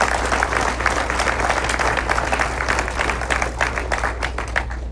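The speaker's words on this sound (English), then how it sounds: "let's give both Mayor Moore and Chairman Boyd one more round of applause." An audience at a mayor's State of the City address in Saginaw gives a round of applause, a dense, steady clapping across the whole stretch over a low constant hum.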